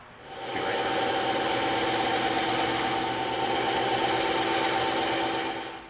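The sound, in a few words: bandsaw cutting foam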